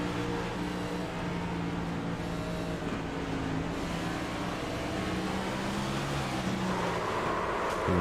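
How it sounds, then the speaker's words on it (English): A stock car in a racing video game at North Wilkesboro loses its rear end and is overcorrected, its engine droning loud and steady throughout with a rising rev near the end. "you can hear I just lose the rear end and overcorrect the car"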